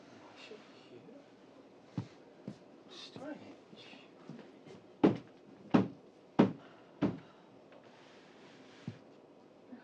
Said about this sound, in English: Who is that knocking on the wall?